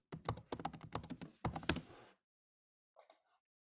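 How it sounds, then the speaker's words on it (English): Computer keyboard keys tapped in quick bursts while entering a home address into an insurance quote form, close and crisp, with a pause and a few final taps after a gap. "So I'm just typing in some random address I know."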